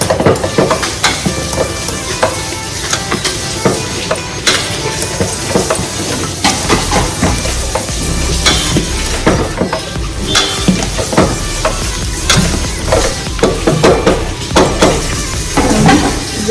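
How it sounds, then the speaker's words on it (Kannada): A masher works through cooked rice, lentils and vegetables in a pot, giving steady wet squelching and scraping with occasional clinks, continuous and close. "ಈಗ ಈ ಥರ ಸ್ಮ್ಯಾಶರ್ ತಗೊಂಡು ಒಂಚೂರು ಸ್ಮ್ಯಾಶ್ ಮಾಡ್ಕೊಳ್ಳೋಣ"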